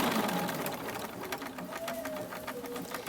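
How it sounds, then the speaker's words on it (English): Embroidery sewing machine stitching down quilt fabric for a table topper border, a steady, close, continuous rapid whirring and needle clatter running throughout with no talk. "when it stitches it down, I want it to be securely stitched down"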